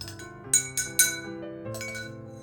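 A small glass is tapped three times in quick succession, bright ringing clinks over a soft melodic tune playing in the background.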